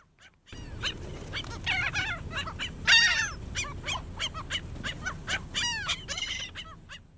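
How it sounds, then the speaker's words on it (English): Gulls call again and again at Hatteras, sharp squawks and cries from several birds overlapping, some near and loud, over a low rumbling background. "Turns out that gulls like popcorn."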